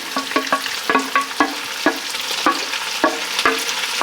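Onions and jalapeno fry in bacon fat alongside bacon nearing crispness, giving a loud, constant sizzle while a utensil clinks and scrapes against the pan in an uneven rhythm.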